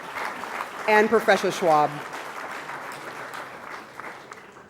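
Audience applause at an economic summit hall in India, continuing softly in the background while someone speaks briefly over it near the start.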